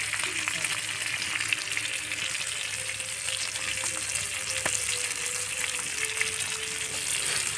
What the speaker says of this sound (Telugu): పెనం మీద ఈ విధంగా ఫ్రై చేసుకుంటే చాలా టేస్ట్ వస్తుంది ఫిష్ ఫ్రైకి